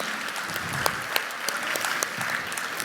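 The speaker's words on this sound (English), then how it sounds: "Audience, let's give a big round of applause to welcome our principal," A school auditorium audience at an Annual Day celebration applauds steadily to welcome the principal on stage: dense, even clapping from many hands that runs continuously throughout, fairly close, with no speech over it.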